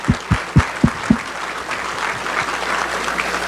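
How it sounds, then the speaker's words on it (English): Applause at a business meeting opens with a few loud, distinct claps, then settles into softer scattered clapping from a modest audience, heard at moderate distance with no talk over it. "Let's give them a round of applause."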